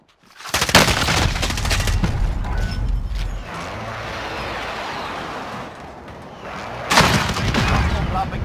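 Gunfire in the video game Call of Duty Warzone: a loud burst of rapid shots, then a sustained rumbling roar and a second heavy volley, heard close and forceful.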